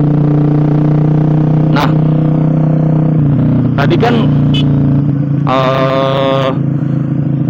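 Suzuki GSX R150 motorcycle with an aftermarket Brataktak exhaust, idling loudly with a steady rumble and a few sharp blips of revving, while someone talks over it.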